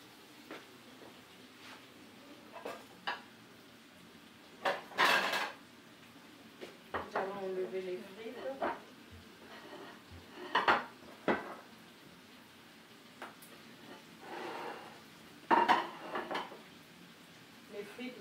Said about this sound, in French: et là nous allons enlever les frites